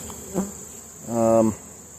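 Honey bees from a strong, well-populated hive give a close, steady high whine, joined by a louder, deeper buzz from a single bee passing near.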